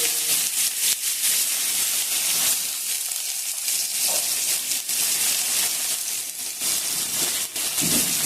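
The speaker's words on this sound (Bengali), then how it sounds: "দিয়ে আমি এবারে ভেজে নেবো ব্রাউন কালার করে ভেজে নেব পেঁয়াজটা" Finely chopped onions, added with nigella seeds, fry in a pan with a steady, close, continuous sizzle and hiss that holds evenly throughout with no voices.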